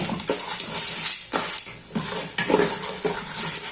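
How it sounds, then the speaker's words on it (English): Popcorn kernels are stirred in a pot on the stove while making caramel popcorn, giving steady, repeated scraping and rattling strokes close up. "So basically I will stir."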